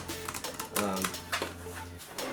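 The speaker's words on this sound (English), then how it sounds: "this is the old keyboard I have for my iPad, which is really old and really cheap" Keys clatter on an old, cheap Anker keyboard for an iPad, giving a loud run of close, uneven clicks with a faint steady hum underneath and no talking.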